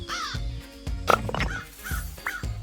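Crows caw repeatedly, harsh and close, in several separate calls spread over the moment, with other bird and animal sounds mixed in underneath.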